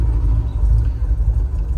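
A 1963 Jaguar E-Type Series 1 coupe, fitted with a Moss 4-speed gearbox, runs after a cold start with a loud, steady low engine rumble close by, filling the short stretch with no talk.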